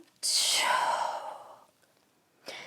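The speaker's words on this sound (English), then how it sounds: "Let's transition with a breath in and breath out." A yoga practitioner breathing out in one long, audible sighing exhale that fades over about a second, followed by a short faint inhale, close and alone.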